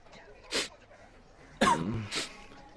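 Two sharp coughs from someone with a cold, the first brief and the second a harsher burst that trails into a short throaty rasp, close and fairly loud against a quiet indoor background.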